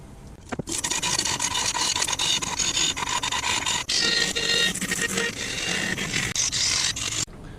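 A purpleheart and maple bowl turned on a wood lathe, the outside being cut with a continuous loud rasping, scraping hiss that runs steadily with brief dips, close up and alone.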